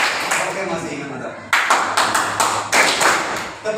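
Several rounds of group clapping in an ice-break clapping game, with short bursts of hand claps in a rough rhythm alongside talking voices in a room.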